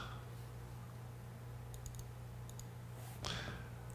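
Quick light clicks of fingers keying numbers into a Kessler motion control keypad, a short cluster of taps in a quiet room with steady low hum, then a brief rustle.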